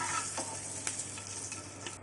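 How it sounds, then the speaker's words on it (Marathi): Eggs frying gently in oil over a low flame for an egg biryani, a steady soft sizzle with light crackles and faint scraping stirs, close and continuous with no talking. "स्लो गॅसवरती आपण हे फ्राय करून घ्यायचं आहे"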